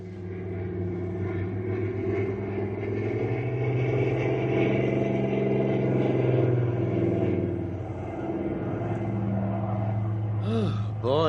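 Steady droning engine rumble of an air freight plane slowly descending toward a runway in a radio drama, with a soft voice over it and a brief rising whine near the end.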